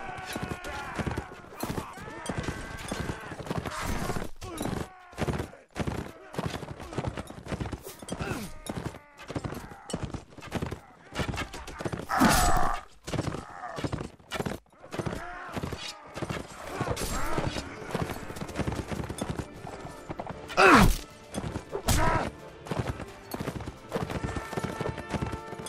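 Galloping horses pound in Mount & Blade, a busy stream of rapid hoofbeats with scattered louder crashes, mixed with a player talking over the action.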